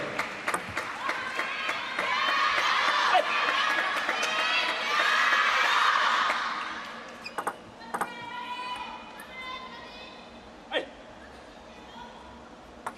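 Fans at a men's singles table tennis match in Singapore raise a swelling burst of cheering and shouting, then it fades into scattered calls, with sharp ball and crowd hits breaking through the quieter stretch.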